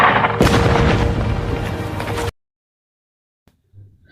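A heavy booming blast of cannon shelling from the 2014 war film Fury, loud and rumbling for about two seconds before cutting abruptly to silence, followed by a faint low thud.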